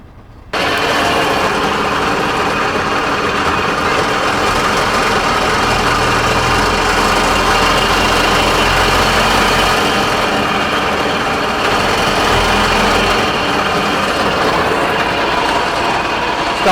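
A scrap fire engine runs its Godiva pump through the PTO and sounds wrong, giving a loud, continuous mechanical roar with a rough, rattling drone. It carries steadily for over fifteen seconds, close and without talk.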